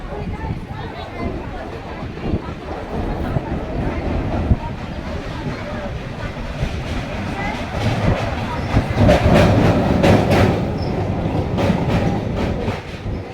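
Riding a Kolkata Circular Railway train, with rhythmic clickety-clack of wheels over rail joints and a steady rumble that swells toward the end, while people talk over the carriage noise.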